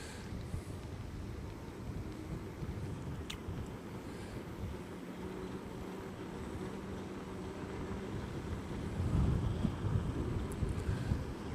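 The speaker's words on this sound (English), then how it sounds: "We got the wind behind us here" Wind buffets the microphone while riding a MiniPro self-balancing scooter outdoors, a steady low rumbling roar that swells louder near the end, with no voices.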